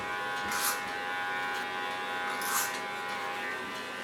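Electric hair clipper buzzing steadily while cutting hair during a styling session, a continuous close hum with two brief louder swells as it passes over the head.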